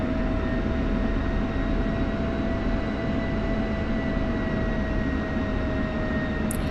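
An aircraft in a video game taxis along a taxiway, giving a loud, constant engine drone with steady whining tones and no voices, ending in a short high blip.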